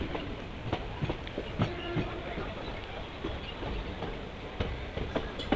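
A train runs along the Vijayawada–Gunadala–Mustabad bypass railway line in India, giving a steady low rumble with a repeated rhythmic clickety-clack of wheels over rail joints, moderately distant and fairly faint.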